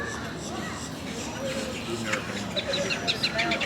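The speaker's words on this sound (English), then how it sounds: "A lot of birds flying around, some orchids, lots of birds." Birds call in a zoo rainforest exhibit, with chirps and squawks scattered through steady crowd noise and voices in the background.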